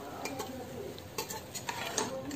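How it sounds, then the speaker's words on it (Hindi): A spoon stirs spices into a chicken stew in a pressure cooker, scraping and clinking against the metal pot in soft, irregular strokes over a quiet background. "अब हमने मसालों को डाल करके अच्छा सा एक मिक्स देना है"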